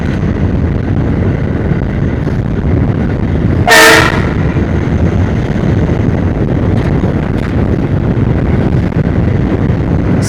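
An Indian Railways train running between Halisahar and Naihati Junction, a loud steady rumble of wheels and wind with one short blast of the horn partway through.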